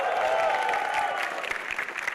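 Audience applause at a stand-up comedy show in Bekasi, a dense steady wash of clapping filling the room at close range, with a faint voice underneath.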